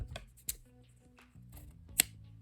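Scissors snip through crochet yarn while finishing an amigurumi turtle, giving two sharp, close cuts, one early and one near the end, over a quiet background.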